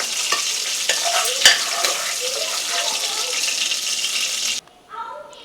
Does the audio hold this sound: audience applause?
no